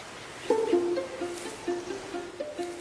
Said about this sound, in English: Guam was once home to over 12 native species of forest birds, each with their own unique sound, color, and role to play in our ecosystem.